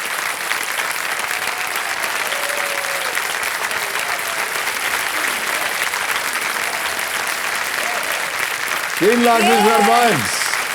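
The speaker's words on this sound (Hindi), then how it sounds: "जोरदार तालियां बज जाए इनके लिए" A studio audience on the Kaun Banega Crorepati TV quiz show breaks into loud, sustained applause lasting around ten seconds, and a voice joins briefly toward the end.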